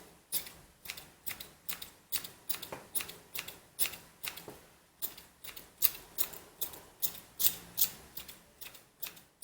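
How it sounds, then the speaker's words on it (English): Rapid, regular snips of scissors trimming yarn on a pom-pom, about two crisp clicks per second, close and continuous with no talking. "you can use your scissors just to trim off the straggly ends"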